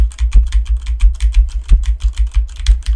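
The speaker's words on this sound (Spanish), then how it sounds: "Ahora vamos a escribir para que vean cómo lo capta el micrófono." Typing on a computer keyboard, recorded through a HyperX SoloCast microphone: rapid, close, crisp key clicks in a fast uneven rhythm, with no talk.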